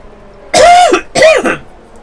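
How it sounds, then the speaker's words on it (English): Two short, loud coughs or throat-clearing bursts, about half a second apart, from a commentator voicing an F1 2019 career-mode race, with quiet background before and after. "I'm going to cough my way through that"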